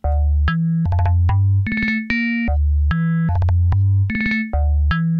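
A synth bass line driven by the Polymath sequencer in Ableton plays alone: thick, buzzy sustained notes stepping between pitches in a looping pattern with short bright stabs above, loud and steady.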